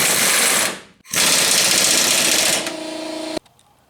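Power tool tightening 18 mm nuts on trailer hitch bolts of a GMC/Chevy 2500: loud continuous rattling hammering, a short break, then another long burst that ends abruptly, no talk.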